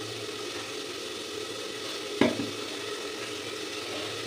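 Vegetables frying in a generous amount of hot oil in a home kitchen: a steady close sizzle throughout, with one brief louder utensil knock or clatter partway through.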